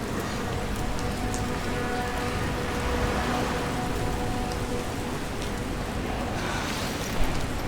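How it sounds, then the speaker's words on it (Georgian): Heavy rain pours constantly in the survival horror game Resident Evil Requiem, a dense, even downpour filling the scene with a single faint knock near the end. "აქაც წვიმა, რა თქმა უნდა."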